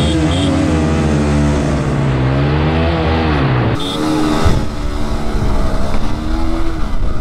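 A Bajaj Pulsar N150 and a TVS Apache 4V motorcycle race, with loud close engines revving and climbing through the gears, then a sharp shift in tone as the bikes pull away hard.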